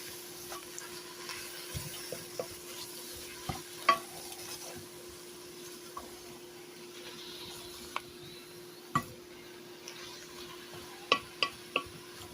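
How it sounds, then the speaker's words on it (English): Sautéed mixed greens are turned in a pan. Faint, sparse clicks and scrapes of the utensil stand over a low, constant background hum and a soft sizzle. "Now, you have to sit here and keep turning these."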